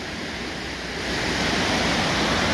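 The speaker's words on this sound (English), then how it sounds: "the water is just amazingly fast and high" A loud, steady roar of the flooded River Don in Sheffield, broad and continuous like a fast torrent, swelling slightly louder partway through.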